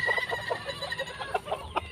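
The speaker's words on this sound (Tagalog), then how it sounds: "Kaya talaga tumilaok dito" A rooster crows and clucks nearby in a loud string of short, repeated calls, joined by other fowl sounds at a backyard coop.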